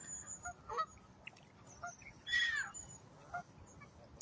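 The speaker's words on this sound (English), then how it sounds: "Oh, the geese." Geese honk at a lake where many birds gather to feed, several nasal calls rising and falling at moderate distance over quiet outdoor ambience.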